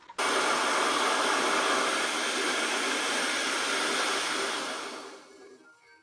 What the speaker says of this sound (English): Let's try turning on the vacuum cleaner.